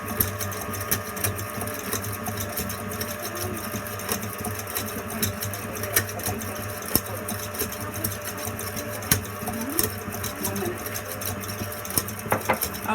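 Electric hand mixer on speed 4 beating tangerine cake batter, a loud, steady motor whir with a constant buzzing drone and faint rattling, continuous and close throughout.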